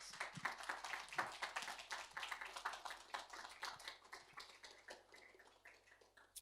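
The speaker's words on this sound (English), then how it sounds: "let's give those two a big round of applause" Faint, scattered clapping from a small crowd at an exhibition opening reception, with distinct individual hand claps thinning out toward the end.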